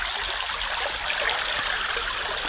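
Water flowing steadily along an irrigation canal, a constant broadband rushing and gurgling heard close and fairly loud throughout, with no voices.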